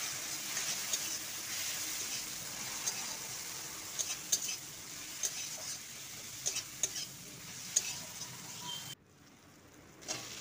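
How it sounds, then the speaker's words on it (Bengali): Spice paste of chili and turmeric powder with a little water being stirred and sautéed in a pan, a steady close sizzle with clinks of a spoon against the pan, no talking, ending in near silence. "সামান্য জল দিয়ে মশলাটি কষিয়ে নেব।"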